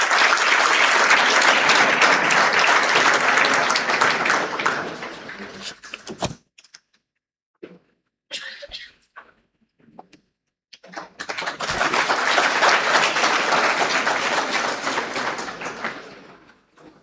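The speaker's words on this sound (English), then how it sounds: "Can we have a huge round of applause?" An audience at an HR leadership summit felicitation at PIBM Pune breaks into loud applause for several seconds, fades into quiet with a few scattered claps and thumps, then swells into a second long burst of clapping.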